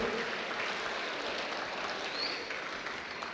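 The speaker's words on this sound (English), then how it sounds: "Big round of applause, people." A high school audience at a Women's History Month celebration applauds the mayor with a steady, dense wash of clapping that holds evenly throughout without fading.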